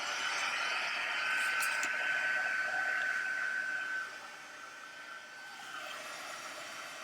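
A heat tool blows hot air onto a polished stone technique craft card, a steady close whooshing hiss that holds for about four seconds and then drops to a softer continuous blow.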